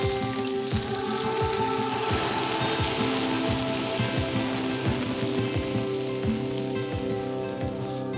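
Onions sizzle and caramelize in rendered bacon fat in a pan over an open fire, a loud, constant close-up hiss dotted with crackles and spits, with no voices.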